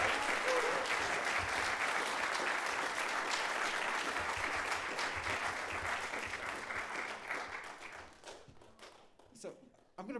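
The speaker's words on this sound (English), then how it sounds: "how about one more round of applause for our amazing band?" Sustained applause from a live audience for a jazz quartet fills the room loudly for several seconds, then thins out into scattered claps as a voice starts talking near the end.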